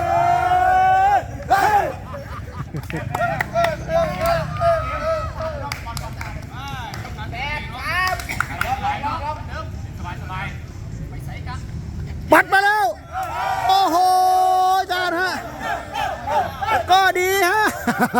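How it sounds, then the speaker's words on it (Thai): A heated Thai takraw match crowd roars and chants, a loud cheering squad with shouted cries, whistles and surging bursts of noise from start to finish. "โอ้ยกองเชียร์ฮะ เดือดจัด"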